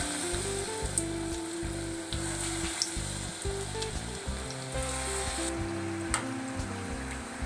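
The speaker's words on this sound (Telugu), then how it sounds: "ఇప్పుడు ఆయిల్ కాగింది ఈ పిండి మొత్తం పునుగుల్లాగా వేసుకుందాం" Mysore bonda batter drops into hot oil and fries with a constant bubbling sizzle and occasional crackles, heard alongside steady background music.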